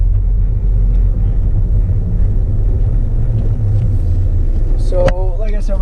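A manual-transmission car driving along, its engine rumble and road noise steady and close inside the cabin, with a brief squeaky mechanical whine near the end, no talking.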